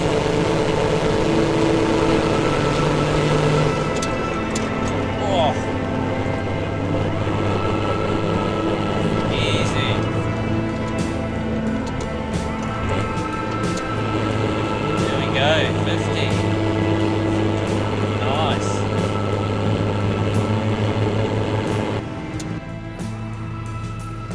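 A straight-piped Nissan TD42 diesel engine drones loud and steady while towing, a constant low rumble with slight rises in revs, under continuous talking that carries throughout.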